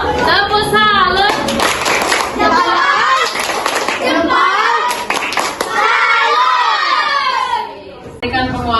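Primary school class performing a rhythmic 'tepuk salut' clapping routine, children chanting loudly in unison between sharp group claps, with a teacher's voice joining in.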